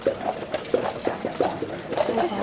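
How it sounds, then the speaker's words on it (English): A one-horse carriage rolls along on Mackinac Island, hooves clip-clopping in a steady, even rhythm over a low background rumble. "The one-horse fixed carriage."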